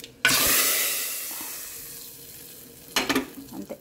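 Hot oil tempering for pappu charu hits the pot with a sudden loud sizzle that slowly fades. It is followed by a few quick clinks and stirring scrapes, with no voices.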